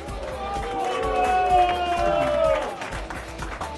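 An audience applauds the winning team of a final, brisk clapping and cheering that swells and holds under an announcer's amplified voice and crowd noise.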